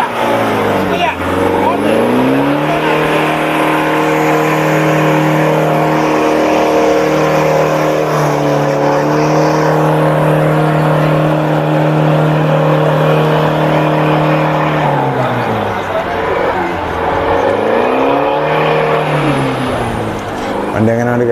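Loud vehicle engine at a mud race in Vengara Cheroor, Kerala, held at high revs for long stretches, dropping and then surging again near the end; a constant roar throughout.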